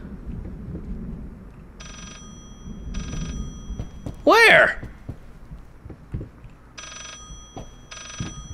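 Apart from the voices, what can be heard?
telephone ringing in the video game Layers of Fear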